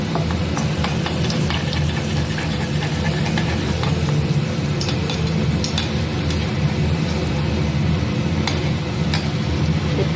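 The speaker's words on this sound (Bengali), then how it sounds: "তেলটা গরম হলে পরে গ্যাসটা কমিয়ে তারপরে আস্তে করে এটা ছেড়ে দিতে হবে।" Mughlai paratha with mutton mince frying in hot oil over lowered gas, a steady close sizzle with faint crackles throughout.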